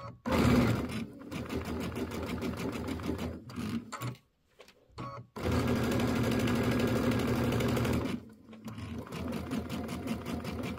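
A sewing machine runs tiny 1.8-length stitches on a Kimberbell mini quilt in fast, steady buzzing bursts. It breaks off briefly around the middle, then resumes before another short pause and a final run.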